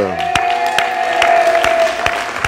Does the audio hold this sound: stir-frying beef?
no